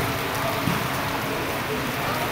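Heavy rain pours steadily outside a gymnasium in Poblacion, San Jose, Negros Oriental, Philippines, a dense, loud, continuous hiss that fills the whole moment.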